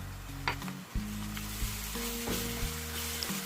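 A ginger, garlic and green chili paste goes into hot oil for egg biryani, sizzling steadily and close, with a few light scrapes and stirring knocks of a spoon against the pan.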